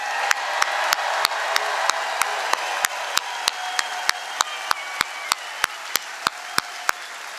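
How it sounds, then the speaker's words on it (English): Rally crowd applauding for veterans, a broad wash of clapping and cheering that fades over time, cut through by loud regular sharp clicks about three times a second; no speech. "let's give them a roaring sound of applause"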